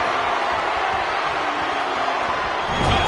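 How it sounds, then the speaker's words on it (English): A video game wrestling crowd at WrestleMania in WWE2K25 roars in a steady wash of cheering, swelling slightly near the end, with a faint voice underneath. "The crowd is going absolutely crazy right now."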